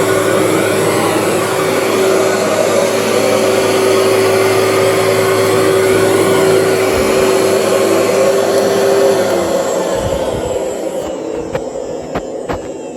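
Vacuum cleaner working over a carpet, a loud steady motor whine and hum running continuously, then shifting and sputtering toward the end as it is moved or shut off.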